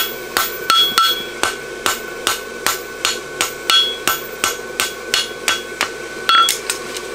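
Farrier's hammer striking a horseshoe on an anvil to shape and flatten it, a steady series of about twenty sharp ringing metallic blows, close and loud, evenly paced with no talking.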